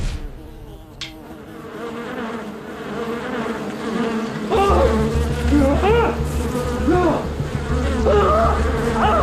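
Agitated bees buzz in a droning, close swarm that swells louder partway through, with other gliding tones layered over the steady hum.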